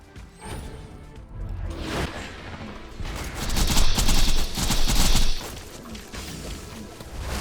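Rapid video game gunfire crackles in dense bursts over a whooshing, crashing battle din, swelling louder midway through before easing off, with no talk over it.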